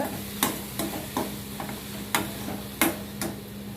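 Tomatoes sautéing with a little salt in a pan for okra chutney: a low, steady sizzle broken by regular sharp taps and scrapes of a spatula stirring, about one every half second, close and without voices.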